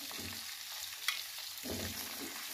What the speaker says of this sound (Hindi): टोटल आठ मिनट के लिए हम फ्राई करेंगे चार मिनट एक साइड पर चार मिनट दूसरी साइड पर